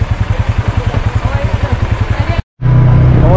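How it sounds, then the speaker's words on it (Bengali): An ATV engine chugs with a rapid, regular idle pulse, cuts out briefly, then catches again and holds a steadier, louder running drone as if pulling away; close and prominent. "আমাদের গাড়ি স্টার্ট হয়ে গেছে"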